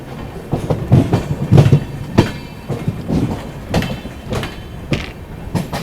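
Express train running on the Lucknow–Gonda main line, heard from on board: loud rhythmic clickety-clack of wheels over rail joints with rumbling carriage noise throughout.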